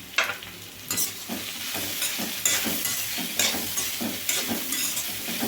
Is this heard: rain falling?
no